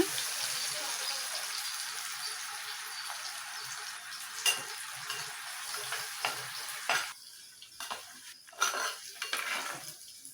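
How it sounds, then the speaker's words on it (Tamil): Sliced onions and a couple of bay leaves sauté in a pan for chicken pepper gravy, giving a steady close sizzle that fades partway through, broken by several sharp scrapes of a utensil against the pan. "பிரியாணி இலை வந்துங்க ஃப்ரெண்ட்ஸ் நல்லா போட்டு நம்ம வெங்காயம் வந்து பிங்கிஷாக வதக்கிடுங்க"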